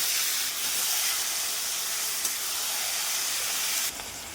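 Chopped onion and marinated mutton hit hot oil in a pan, giving a loud, steady sizzle that hisses on and then drops off near the end.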